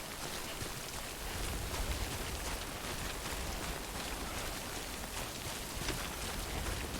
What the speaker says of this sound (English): little bit of rain, not a problem.